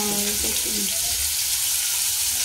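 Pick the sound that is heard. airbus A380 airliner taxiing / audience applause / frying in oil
frying in oil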